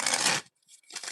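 Tarot cards are shuffled in short riffling bursts, a crisp papery rustle, then a pause and a second softer flurry, close and fairly quiet with no talk.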